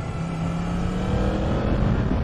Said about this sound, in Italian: il mio motore che va in aspirazione